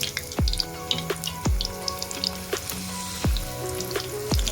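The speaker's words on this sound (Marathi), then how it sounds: "बघा मी तेल ठेवलंय कढईमध्ये गरम करायला, तेल पण तापलंय. मी आता वडे त्याच्यामध्ये टाकते." Aadu vadis fry in hot oil in a kadai, a constant bubbling sizzle with small spitting crackles, alongside music with repeated swooping tones.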